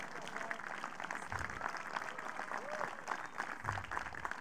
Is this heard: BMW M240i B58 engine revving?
no